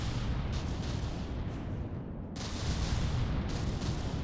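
Dense, continuous rumbling barrage of naval cannon fire and explosions in the From the Depths battleship game, booming bursts layered over heavy low roar.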